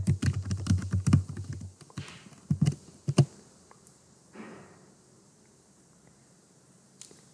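Quick bursts of keystrokes on a computer keyboard as a full name is typed, clustered at the start and then dropping to scattered isolated taps with quiet gaps, close and clear with no talking.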